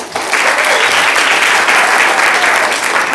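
A studio audience at a Black History performance gives sustained, dense clapping that starts abruptly and holds steady at full volume for a few seconds, with no talk over it.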